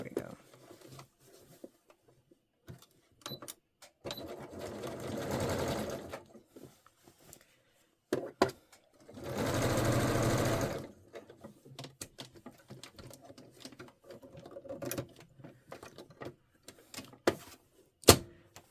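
A sewing machine stitches a dress back seam in two steady whirring runs of a few seconds each, close and clear. Between runs come quiet handling clicks and a person talking.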